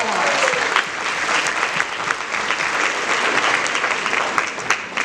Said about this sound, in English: I think you give yourself a big round of applause.